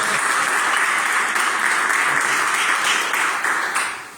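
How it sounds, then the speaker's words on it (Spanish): A church congregation applauds after the reading of the word of the Lord, a dense, steady wash of clapping from many hands that holds evenly for several seconds, then fades toward the end. "un fuerte aplauso a la palabra del Señor"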